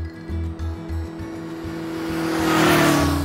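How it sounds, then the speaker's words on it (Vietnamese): A motorbike on a road, its engine chugging in short pulses at first and then revving up into a rising, louder whine as it gets moving, close by with no talking. "Xe máy đang đi trên đường."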